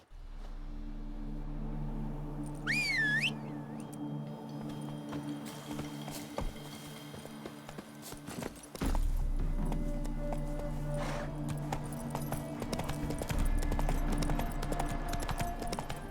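Hooves of Geralt's horse Roach clip-clop in The Witcher 3, a steady rhythmic gait beneath a droning game soundscape, with a short whinny early on and a surge of louder ambience partway through.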